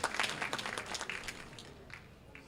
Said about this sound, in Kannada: ಜೋರಾದ ಚಪ್ಪಾಳೆ ಬರಬೇಕು